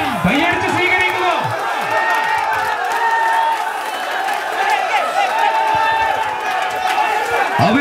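Spectators at a district-level tug-of-war match in Mukkam, Kerala, keep up a loud, continuous roar of cheering and clapping, with a commentator's voice speaking over the crowd.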